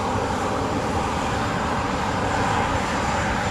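A steady, loud airplane engine roar at Montego Bay airport in Jamaica, unbroken and continuous throughout, with no voices.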